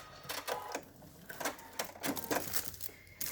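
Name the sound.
sewing machine back stitching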